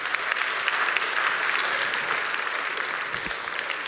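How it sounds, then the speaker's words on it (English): Audience applauding in a university chapel service, dense steady clapping from a large crowd throughout, close and loud with no pauses. "Give yourselves a big round of applause this morning."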